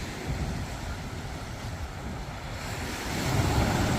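Steady roar of surf washing in on Dandi beach at Malvan on the Arabian Sea, with a breeze-like rush and a swell of louder breaking waves near the end; no voices.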